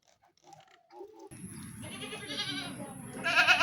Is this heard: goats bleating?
yes